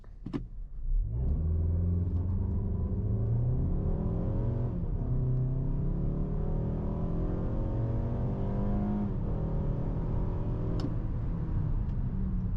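A 2022 Mazda CX-5 2.5 SkyActiv-G 194 HP engine with six-speed automatic roars up from idle in sport mode under hard launch acceleration, revving through rising pitch sweeps with brief dips at gear changes, loud and close.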